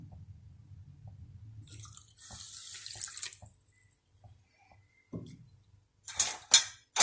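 Water runs and splashes steadily into a pot with sugar for a few seconds, followed by a few clinks of metal utensils and cookware, close by with no talking.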